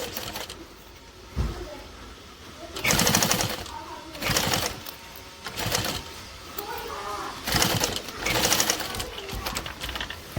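Sewing machine basting fabric with a 1/8 inch seam allowance, several close motor bursts of rapid stitching separated by short pauses, with faint background sounds between runs.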